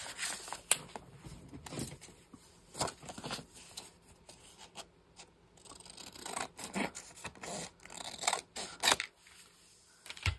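Scissors cutting a dried book page in half, giving irregular crisp snips and paper rustles spread across the span with short pauses between cuts.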